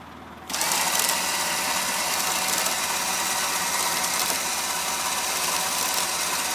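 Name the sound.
winch spooling cable while pulling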